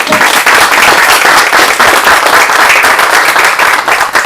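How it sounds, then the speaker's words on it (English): Loud, sustained applause from a large audience, dense clapping holding steady for several seconds without a break. "Give them a round of applause."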